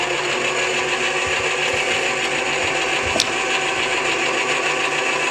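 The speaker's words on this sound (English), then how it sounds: "I'll crank this down enough where the feed motor's going, and I can actually run this piece through" A Woodmaster planer/molder runs with only its feed motor turning and the cutter head off, giving a steady, even mechanical whir that holds throughout, with one small click partway through.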